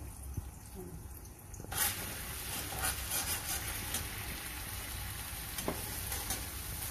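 Fenugreek leaves hit hot oil with crushed green chilli and garlic, and a quiet pan bursts into a steady close sizzle that keeps going, with a few sharp utensil clicks.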